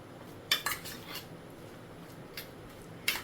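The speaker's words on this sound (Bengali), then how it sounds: "mix it all together" A spoon clinks against a bowl while raita is stirred with black salt and raita masala, a few quiet, sharp metallic taps spaced irregularly over a soft, near-silent background.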